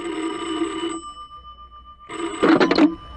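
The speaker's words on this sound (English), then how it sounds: "At 11, the phone rang." An old-style telephone bell rings in two bursts, a long ring then a pause and a second ring, loud and close in a quiet room.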